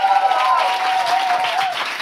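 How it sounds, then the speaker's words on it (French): A studio audience claps for guests Brigitte Poupard and Calamine on a French talk show, a loud, brief burst of applause lasting about two seconds with a voice calling out over it. "On les applaudit."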